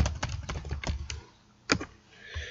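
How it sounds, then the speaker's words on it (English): Rapid typing on a computer keyboard to enter a web search, with a close run of quick key clicks, then a single sharp keystroke after a brief pause, and quiet after that. "you could go into Google and you could type, Google Classroom."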